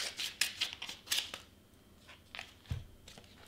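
Scissors snip through a strip of Cricut transfer tape in a few quick, close cuts, with light crinkling of the tape between them.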